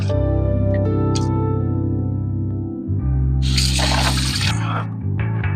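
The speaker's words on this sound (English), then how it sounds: "Let's wash the rice. Let's get out all that excess starch." Rice being washed in a bowl of water, close sloshing and trickling with a brief clatter and a louder splash of water near the end, under a person talking.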